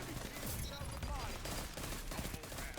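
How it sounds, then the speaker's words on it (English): Continuous rapid gunfire of ricochet rounds in the shooter Destiny 2, dense and steady, with faint talk underneath. "Keep shooting ricochet rounds in there"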